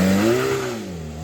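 A Zenvo TSR-S hypercar pulls away hard from a standstill, its engine note climbing in a loud, close rising rev that sags slightly as it pulls away over about a second.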